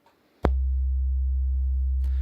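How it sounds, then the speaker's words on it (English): A synthesised sine-wave oscillator tone starts with a sharp click, then holds one pure, steady low pitch, loud and unchanging, until another click near the end. "in this oscillator, I said I was going to use a sine wave"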